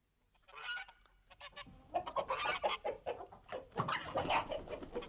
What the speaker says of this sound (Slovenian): Na dvorišču za hiško pa so v kurniku živele Putka, Goska in Račka.